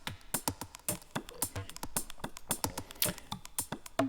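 Electronic drum tracks from a drum group built in Bitwig, featuring an open hi-hat layered with a theatrical percussion track, play as a steady run of punchy, evenly spaced hits with bright, sizzling tops, alone and without talk.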